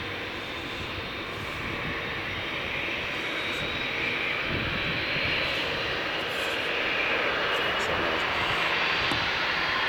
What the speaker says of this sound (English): So then there is the beast Qatar Boeing 787-9 Dreamliner. This aircraft is going to Doha.